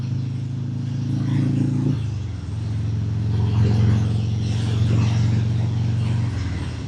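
A Harley-Davidson Breakout 117 motorcycle cruising in third gear at about 55 mph, a loud continuous low engine rumble with a slight shift in pitch partway through, wind noise layered over it.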